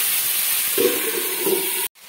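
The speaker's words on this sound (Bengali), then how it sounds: "মিডিয়াম ফ্লেমে রেখে আলু পেঁয়াজটাকে আমি এখন ভেজে নিচ্ছি" Potatoes and onions frying over medium flame give a steady broadband hiss with a few soft low bursts of sizzle, close and continuous until it cuts off abruptly near the end.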